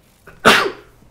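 A single sharp sneeze bursts out close by, preceded by a faint quick intake of breath, then fades into quiet.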